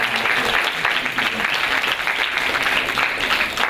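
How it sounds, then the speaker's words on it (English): An audience applauds after a dance performance at a university arts festival in 2013, with sustained, loud, dense clapping that continues evenly throughout and has no voices over it. "Please give another round of applause for"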